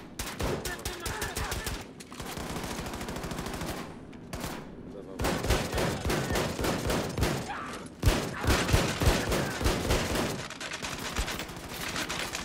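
Enemy gunfire in Wolfenstein II: The New Colossus, dense automatic bursts and rattling shots that run almost without a break, loud and close, with brief gaps between volleys.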